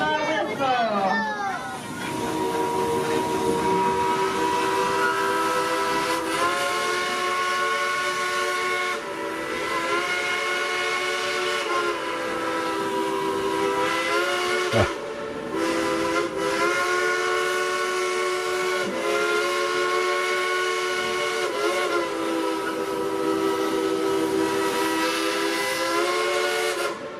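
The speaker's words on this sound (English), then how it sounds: "let's all tell that engineer to blow the whistle." A steam locomotive whistle at Dollywood, Pigeon Forge, Tennessee, blows loudly and steadily in long, sustained chords, pausing briefly a few times before sounding again.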